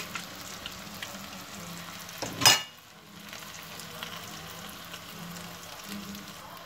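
Spring rolls filled with tuna and minced meat fry in hot oil, giving a quiet steady sizzle with one brief louder crackling burst partway through, no voices.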